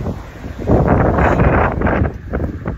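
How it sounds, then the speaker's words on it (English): A headwind roars against the microphone during a marathon training run, a loud, steady gusting rush that swells and buffets throughout. "Me right now in that headwind."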